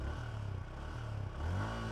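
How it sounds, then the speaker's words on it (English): A motorcycle's exhaust burbles at idle nearby, then revs up sharply near the end, loud and throaty. "This is the exhaust note"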